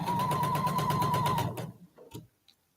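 A sewing machine stitching a quilt block seam, a close, rapid, steady whirring run that stops after about a second and a half, followed by a few faint clicks.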